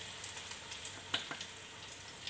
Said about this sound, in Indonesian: Sekarang kita mulai menggoreng bakwan jagungnya.